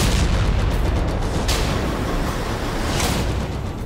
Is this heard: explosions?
yes